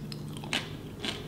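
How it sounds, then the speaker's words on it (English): Crunchy food bitten and chewed close up while tasting recipes from the Kitchen Envy cookbook, two distinct crisp crunches about half a second apart with soft mouth sounds between. "With the crunch."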